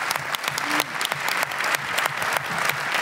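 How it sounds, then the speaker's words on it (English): Conference audience at a keynote opening session claps together, a full steady round of many hands with individual sharp claps standing out, fairly close and loud, no voices. "let's just give us a clap"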